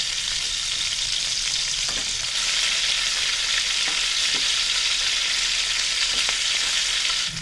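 Crabs frying in a pan of hot oil for crab pickle, a loud, even, crackling sizzle that continues steadily throughout with faint stirring taps.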